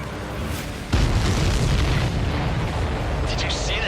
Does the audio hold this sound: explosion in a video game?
yes